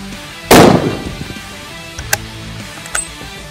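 A single loud, close rifle shot from a Sako 85 Classic Deluxe in .375 H&H, fired outdoors on a buffalo hunt, with a sharp crack and a decaying rumble, followed by a couple of faint clicks.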